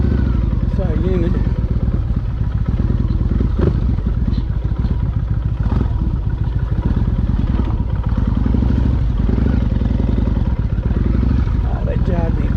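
Motorcycle ride near Bexhill: a steady, loud engine drone runs throughout, with rattles and clatter from the bike and wind noise. A voice talks over it.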